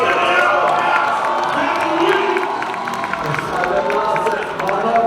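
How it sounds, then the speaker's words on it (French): Spectators at a snowskate festival in Montreal's Quartier Latin cheer and clap during an APIK finale, a steady crowd roar with shouts and scattered applause, with an announcer's voice talking over it throughout. "Hey, pas mal d'applaudissements, s'il vous plaît"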